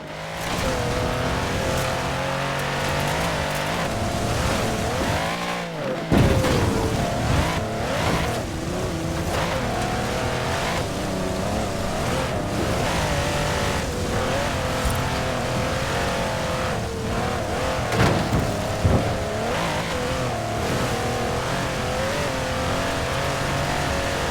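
A Mercedes G-Wagon 6x6 with a 5.5-litre twin-turbo V8 in Forza Horizon 4 roars loudly and steadily. The engine revs and surges, with a short dip in the sound early on.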